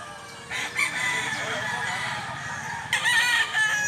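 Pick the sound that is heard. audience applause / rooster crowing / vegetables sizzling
rooster crowing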